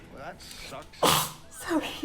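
A single loud, sharp sneeze bursts out in the middle of a casual conversation among comedians watching a film, with voices talking before and after it.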